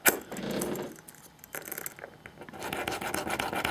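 Tool scratching a mark into a crystal block, rasping scrapes in uneven bursts, close and fairly faint, with no talk.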